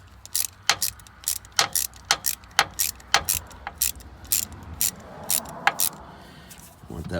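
A ratchet clicks in quick repeated strokes while tightening a bolt on a Ford starter motor, a close, sharp, slightly uneven run of ticks over about seven seconds.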